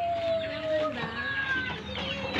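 A pink-necked green pigeon (punay) gives soft, tonal calls with faint rising and falling whistles, heard amid rural outdoor background noise.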